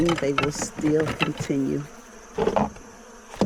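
Honey bees buzz around hive frames, a steady insect hum running under close conversational speech, with a brief louder buzz near the start.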